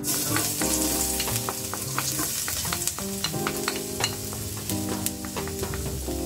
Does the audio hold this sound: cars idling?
no